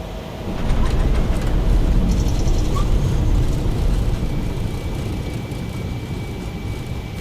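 A PMDG 737 cargo jet's thrust reversers roar on landing at Vancouver in Microsoft Flight Simulator: a loud, broad rumble that swells, then slowly eases off, with no talk.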